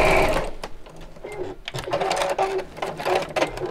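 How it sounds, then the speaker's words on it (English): A sewing machine stitching over the edges of bag straps, a steady fast rattling whir close by with brief pauses and faint talk underneath. "I'm sewing over the edges of the straps now"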